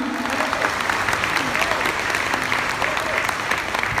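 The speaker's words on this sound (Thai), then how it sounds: "ขอเสียงปรบมือหน่อยครับ" Steady applause fills a corporate event hall as an audience claps for a sales target announcement, dense and continuous at moderate level from start to finish.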